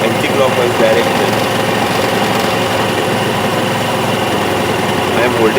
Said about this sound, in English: I am holding the accelerator right now to keep the engine running.